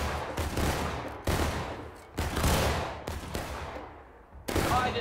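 Rifle volleys in the American Civil War game War of Rights at Antietam: several sharp, loud bursts of massed musket fire at irregular intervals, each rolling off into echo.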